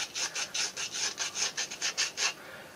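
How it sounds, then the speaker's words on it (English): A thumb rocks back and forth over a salt-crusted model piece, giving about a dozen quick, even scraping rubs in a steady rhythm, close and fairly quiet. "So all I do is I took my thumb and rocked it back and forth."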